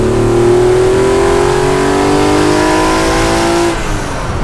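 A BMW M1's 280 brake horsepower engine accelerates loudly, its pitch climbing steadily through the gear before cutting off abruptly near the end.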